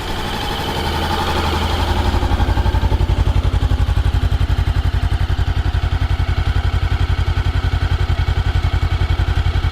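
A 2014 Honda CB500X motorcycle engine cranks and catches, then settles into a steady, low, chugging idle around 1500 rpm that runs on evenly, close by.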